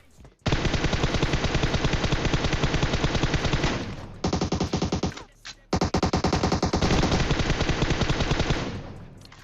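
Rapid automatic gunfire from the player's gun in a video game fires in long, loud, sustained bursts with two brief pauses and then a final stream that tails off.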